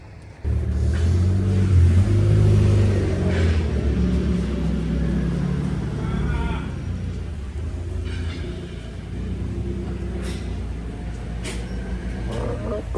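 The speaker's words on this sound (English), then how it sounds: "traffic going here." Road traffic rumbles close by, cars and heavier vehicles rolling past with a steady low drone and engine noise that swells at the start, then holds at a constant level.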